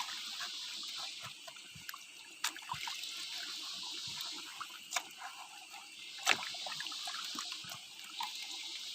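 Water splashing and trickling while gold ore is rinsed clean, an uneven running flow close up with intermittent sharper splashes and drips.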